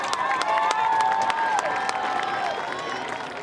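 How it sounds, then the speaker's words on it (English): Crowd at a high school football game between HE and Schaumburg applauds and cheers in a steady, dense wash of sound for a player walking off the field, with a sustained tone running through the noise. "Another round of applause for Sean Brown."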